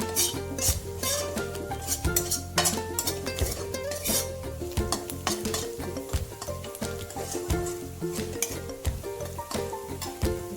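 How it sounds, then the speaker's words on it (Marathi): Spices sautéed with browned onion in a pan for a fenugreek fry, busy close stirring with rapid metallic scrapes and clinks over a low sizzle throughout. "मसाले चांगले परतून घ्यायचे"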